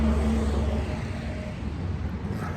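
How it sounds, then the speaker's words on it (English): Big trucks passing along a residential street, heard as a low engine rumble and road roar. The sound is loudest at the start and eases slightly as they move on, with no talking. "Sorry about the noise. Big trucks."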